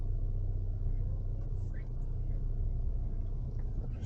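A 2022 Ford Ranger Wildtrak pickup rolling slowly through a narrow driveway, with a steady low engine and road rumble heard from inside the cab.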